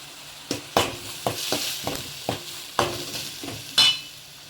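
Onion and spice paste frying in a pan for a fish curry sizzles softly, with repeated sharp scrapes and clacks of a spoon stirring at an uneven rhythm, close and alone.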